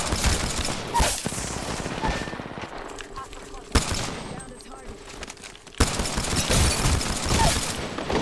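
Rapid automatic gunfire from a weapon in Apex Legends Arena ranked play, dense loud bursts near the start and end with a quieter gap between, while a player talks over it.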